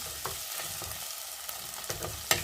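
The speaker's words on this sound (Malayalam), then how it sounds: "ഇഞ്ചി വെളുത്തുള്ളി പേസ്റ്റ് ചതച്ചതാണ് ഇട്ട് കൊടുക്കാം ഇത് നന്നായി ഒന്ന് വഴന്ന് വരണം" Crushed ginger-garlic paste sautés in hot oil for a Kerala-style fish curry, giving a soft continuous sizzle broken by light stirring taps and scrapes, close and unaccompanied by talk.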